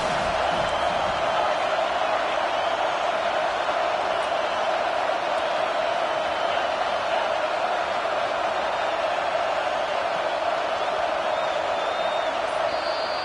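A packed arena crowd at a Kansas State basketball game keeps up a steady, unbroken roar throughout, loud and continuous without sharp peaks.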